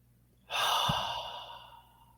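A slow, deep breath drawn in and released, a single long airy exhale that swells and gradually fades, close and alone without talk.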